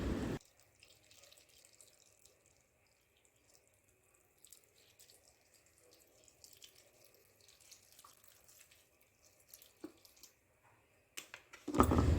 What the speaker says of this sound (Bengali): এতে এবার সামান্য পরিমাণে একটু জল দেব, জল দিয়ে আর চাপা দিয়ে রেখে দেবো।